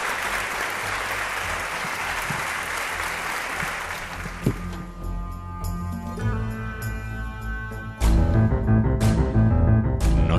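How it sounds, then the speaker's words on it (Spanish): Studio audience applause for guest Milagros Álvarez Sosa on a Canary Islands mystery radio programme, steady clapping for about five seconds that fades into a musical outro. "Milagros Álvarez Sosa, os pido un aplauso para ella."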